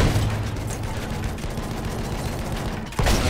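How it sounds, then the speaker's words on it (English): Sustained, dense gunfire in Battlefield 1 as rounds are shot into a wall, a continuous loud rattle of rapid shots that swells into a heavier burst at the very end, with no talking. "You can shoot the wall here."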